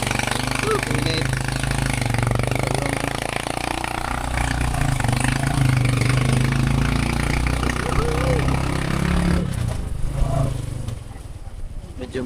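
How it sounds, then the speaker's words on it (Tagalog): A loud, rattling tricycle exhaust drones steadily nearby, a small motor running rough before easing off near the end. "maingay ang tambutso ni tricycle."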